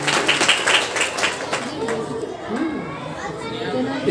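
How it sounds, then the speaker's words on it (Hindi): Loud clapping from a school audience at a high school farewell ceremony, strongest at the start and then thinning, with children's chatter and voices mixing in underneath. "इनके लिए जोरदार तालियां"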